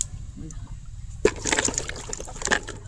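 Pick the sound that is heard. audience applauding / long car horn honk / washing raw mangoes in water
washing raw mangoes in water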